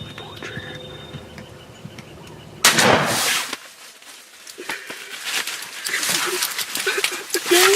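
A single loud gunshot cracks out during a turkey hunt in the outdoors, preceded by quiet ambient sound and followed by rustling and movement with outdoor background noise.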